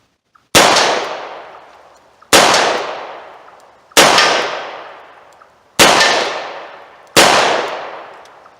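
Five loud revolver shots fired outdoors at a range, .38 and .357 wadcutter and semi-wadcutter rounds, each a sharp crack with a long decaying echo, spaced about one and a half seconds apart with silence between.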